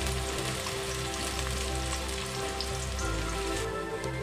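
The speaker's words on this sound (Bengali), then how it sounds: "এবারে আমরা স্লাইস পেঁয়াজগুলো এর মধ্যে অ্যাড করে দিলাম। অ্যাড করে আমরা একটু লাল লাল করে ভালো করে ভাজবো।" Sliced onions fry in hot refined oil for a fish korma, giving a steady, close, dense crackling sizzle like light rain that holds level throughout with no talking.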